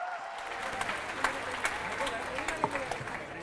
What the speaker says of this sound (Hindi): रवि किशन जी, तालियों के साथ बहुत बहुत स्वागत है।